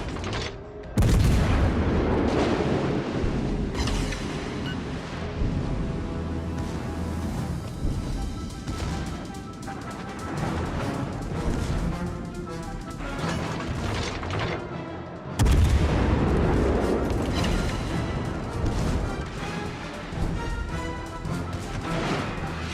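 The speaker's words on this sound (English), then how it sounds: "Concentrate fire on the enemy warship." Naval gunfire from World of Warships Legends, heavy booming artillery salvos and crashing impacts that roll on loudly and continuously across the whole stretch, with strong renewed bursts near the start and again midway.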